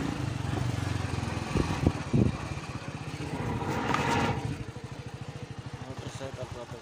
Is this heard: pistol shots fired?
no